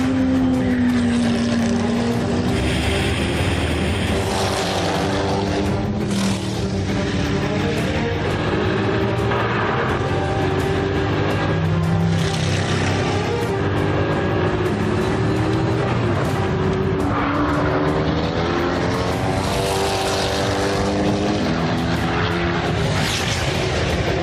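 Gumpert Apollo sports cars lapping a race circuit, engines roaring loud and continuous with rising and falling revs as they pass, no voices over the noise.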